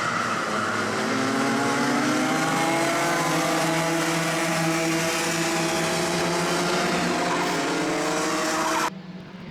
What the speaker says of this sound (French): Baptiste Meunier qui s'est rapproché de Lucas Busch et qui va tenter un dépassement dans les quelques virages qui arrivent